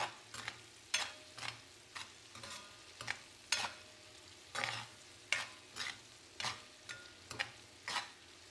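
Fried egg being stirred with salt and chilli in a pan for egg fried rice: rhythmic scraping strokes roughly every half second over a soft sizzle, close and fairly quiet, no voices.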